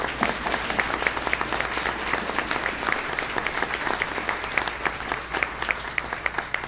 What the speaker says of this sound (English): let's give Montgomery a round of applause.